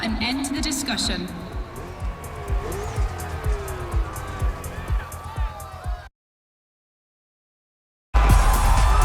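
Racing cars at the Red Bull Motorfest rev and squeal their tyres in a run of engine bursts, with a commentator talking over them, then a break into silence before a loud closing roar.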